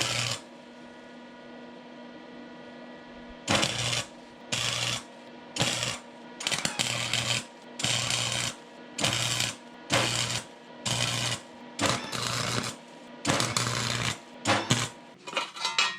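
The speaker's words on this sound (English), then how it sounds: "So I'm gonna weld that right there." Welding of a dust shield on a 1988 Ford Bronco II, heard as about a dozen short, loud crackling bursts in a steady stop-start rhythm, separated by brief pauses over a low background hum.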